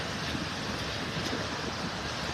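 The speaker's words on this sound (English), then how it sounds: "It's not quite as low as it should be with these waves pushing on shore." Rough surf rolls and pushes onto a beach in Naples, Florida at low tide, a steady dense wash of breaking waves with some wind noise, constant and fairly loud throughout.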